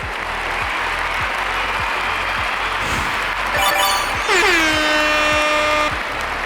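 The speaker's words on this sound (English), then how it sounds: "is here to give you more claps" Steady applause fills the space throughout, joined partway by blaring air-horn blasts that sound out loud over the clapping before fading.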